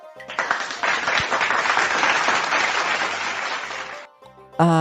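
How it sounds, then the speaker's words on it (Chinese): Clapping for director Su Da rises quickly into a dense, steady round of applause on a radio show, then cuts off after about four seconds and gives way to a brief musical tone. "所以也给苏达 导演呢来一个掌声鼓励一下"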